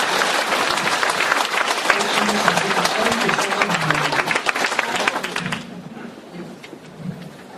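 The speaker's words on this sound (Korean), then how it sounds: "큰 박수 한번 부탁을 드립니다" An audience at a humanities lecture forum bursts into sustained applause, dense clapping that holds for several seconds before tapering off abruptly, leaving a quieter room with a few faint trailing sounds.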